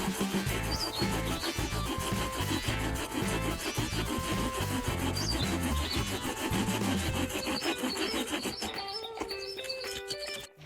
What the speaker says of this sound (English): Use of a handheld chainsaw manual chain trimmer for wood to cut down a small tree.